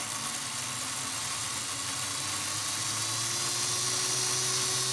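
The old electric motor of a Hornby Dublo BR Black Standard 4MT model locomotive whirs steadily and close up, its buzzing hum slowly rising in pitch as it picks up speed.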